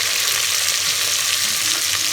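Chicken and onions frying with tomato, a loud, unbroken close hiss and crackle of hot oil with no pauses, no speech.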